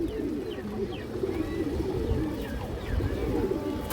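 A flock of farm pigeons keeps up a steady close cooing, overlapping low throaty calls with light chirps and a few soft thumps, no talking.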